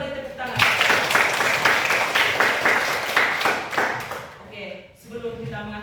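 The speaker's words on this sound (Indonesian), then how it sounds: "Sekali lagi kita beri tepuk tangan." An audience at a classroom session claps for several seconds, a dense close patter that thins and fades out, followed by a voice speaking.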